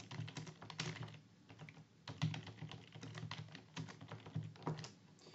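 Keystrokes clatter steadily on a computer keyboard while a poll question is entered on a Wix site, a quick uneven rhythm of close, light taps and clicks running continuously with brief pauses, with no voice over them.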